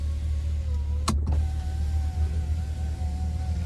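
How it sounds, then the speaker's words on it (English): The power sliding rear window of a 2024 GMC Sierra 1500 AT4X running on its electric motor, a steady faint whine after a short clunk, over the low hum of the idling truck cabin. "We do get a power sliding rear window."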